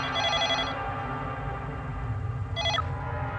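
A telephone rings in two bursts, a longer electronic trill at the start and a short one near the end, over steady low background noise in a tense drama scene.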